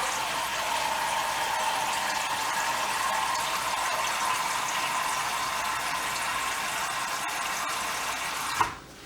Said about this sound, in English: Now from here, I'm gonna pour in some water.